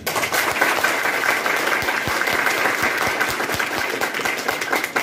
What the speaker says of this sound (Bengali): হাততালি বিদায় দাও।